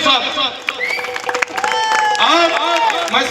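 Crowd applause at a Shane Mustafa celebration event in Nellore, dense clapping with a few whistles and cheers mixed with voices, steady and loud throughout.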